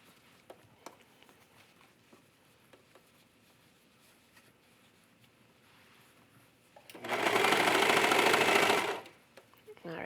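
A sewing machine stitching over a pleat on a garment joining a sports bra and tank with ribbed trim, heard as one loud, steady burst of rapid stitching for about two seconds after a quiet stretch with faint background noise.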